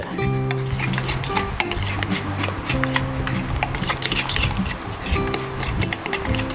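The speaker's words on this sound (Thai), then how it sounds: "คนสักนิดนึงให้เข้าเข้ากันเด้อ" Coarsely chopped herbs are stirred into red curry paste in a bowl, producing repeated scraping and clinking of a utensil against the dish, fairly close and steady, with a low hum underneath.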